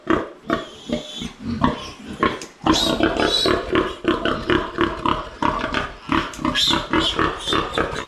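Piglets squeal loudly and shrilly in dense, overlapping bursts while their teeth are clipped on a pig farm, the cries nearly continuous and close.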